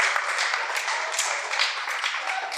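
Comedy club audience applauds in a continuous, dense wash of clapping from a full room, steady and fairly loud throughout with no voices over it.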